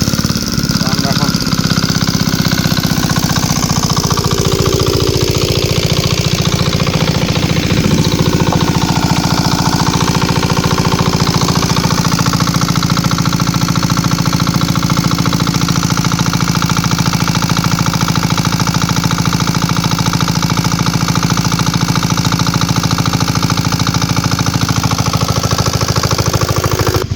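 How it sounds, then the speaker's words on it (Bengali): Small motorised pesticide sprayer engine running steadily and loud throughout, used for a spray on lychee trees before flowering, with a constant droning hum. "মেশিন স্টার্ট হয়ে গেল।"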